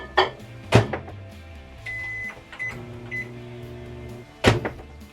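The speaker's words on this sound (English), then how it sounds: "And put into microwave." A microwave oven runs with shredded mozzarella cheese in a microwave-safe cup, a steady low hum between loud door thumps and clicks, with a few short electronic beeps partway through.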